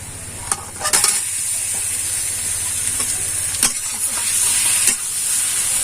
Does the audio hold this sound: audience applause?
no